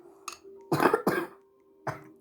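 A few short coughs, close and fairly loud, with a small one first and then two harsher bursts in quick succession, followed by another brief cough.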